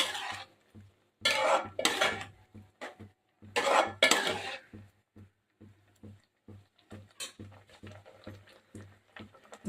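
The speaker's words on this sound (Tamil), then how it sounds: "நெய் ஆட் பண்ணிட்டு நல்லா மிக்ஸ் பண்ணுங்கள்." Beetroot halwa with ghee and sugar being stirred in a pan, repeated scraping and knocking strokes of a spoon against the metal, with bursts of louder scraping early on and softer, irregular strokes after, close and without talk.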